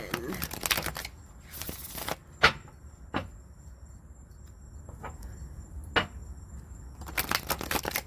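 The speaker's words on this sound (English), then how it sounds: "2 more shuffles for you" Bursts of cards being riffled and shuffled nearby, with a few sharp taps between, against faint background hum.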